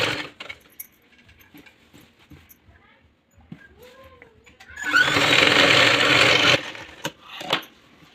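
A sewing machine stitches fabric for a dress in a burst of steady mechanical whirring lasting about two seconds, preceded and followed by quiet handling clicks and a brief squeak.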